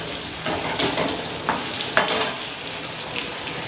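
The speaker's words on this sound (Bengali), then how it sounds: "অর্ধেকটা পটল কেটে নিয়ে আমার ভাজাও হয়ে গেছে এই আর কিছুটা ভাজা চলছে" Sliced pointed gourd (potol) frying in a pan gives a steady close sizzle, with a few sharper stirring scrapes around the middle; no one speaks.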